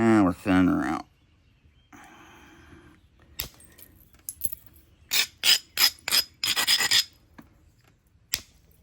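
Rasping strokes of a file thinning a horn piece, heard as a cluster of short, close scraping bursts after a brief voiced sound at the start, with quiet gaps between strokes.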